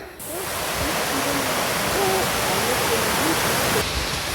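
Water rushes steadily along a trail in the Pyrénées-Orientales mountains near Mosset, a loud, continuous hiss of flowing water close by, with a faint voice briefly heard beneath it.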